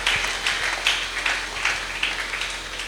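Church congregation clapping through a Sunday worship service, a steady, fairly loud crowd of hands with loose rhythmic swells, no voices standing out.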